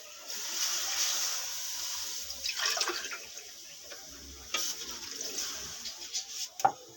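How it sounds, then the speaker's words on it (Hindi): Water pours and splashes into a cooking pot with oil in it in uneven bursts, fairly quiet, with a few louder splashes toward the end. "इसमें 2 गिलास भर के पानी डाल देंगे।"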